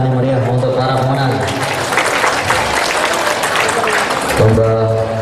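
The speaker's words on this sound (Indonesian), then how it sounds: "tepuk tangan yang meriah untuk para pemenang" Applause for the winners at a university anniversary kethoprak event, dense and sustained throughout, with a voice talking over it near the end.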